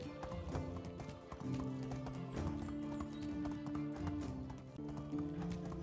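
Horse hooves clip-clop steadily during a ride in the Medieval Dynasty video game, a rhythmic trotting pattern set under continuous background music with sustained melodic tones.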